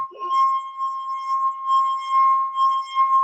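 A wet-rimmed glass bowl rubbed like a Tibetan singing bowl gives a clear, sustained ringing tone. It hums steadily for several seconds with faint overtones that swell and fade, after a brief scrape at the start.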